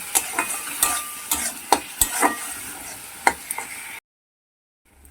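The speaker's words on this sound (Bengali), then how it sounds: "হাফ চামচ জিরে গুঁড়ো দিয়ে দিচ্ছি আরও ভালো করে কষিয়ে নেব" Masala with cumin powder sautéing in a pan for a Bengali katla fish kalia, with repeated sharp scrapes and clinks of a spatula over a steady sizzle, close and fairly loud, before the sound stops abruptly near the end.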